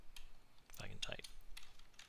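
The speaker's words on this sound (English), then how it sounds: "If I can type." Computer keyboard keys are typed during a Grey Hack game session, a short run of soft clicks under faint background noise.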